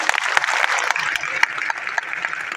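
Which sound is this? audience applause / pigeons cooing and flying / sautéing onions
audience applause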